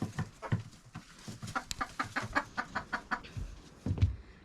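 Chickens cluck in a coop in a steady run of close, rhythmic clucks that fill the whole stretch.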